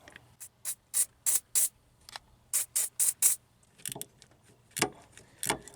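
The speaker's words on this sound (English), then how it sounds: "Might spray some blaster on those before I even try to turn them" Short hissing sprays of penetrating oil aimed at small engine bolts during an engine teardown, about ten quick bursts in two clusters, close and crisp, followed by faint clinks and handling noises.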